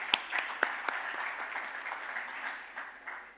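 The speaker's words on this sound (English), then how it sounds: "So great applause for you in advance." Audience applause fills a shareholder meeting hall, a dense, steady wash of clapping from a large crowd with a few sharper individual claps standing out near the start.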